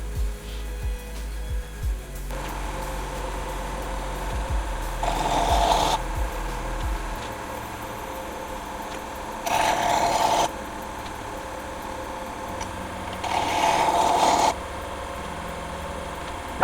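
Knife blade ground against a spinning grinding wheel, with three separate passes of harsh broadband grinding lasting about a second each over the steady hum of the running machine.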